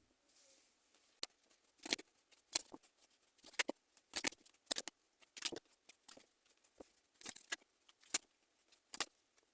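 Tarot cards being shuffled and drawn by hand: quiet, dry papery flicks and riffles arriving in short irregular bursts with gaps of silence between them, close and soft, with no talking.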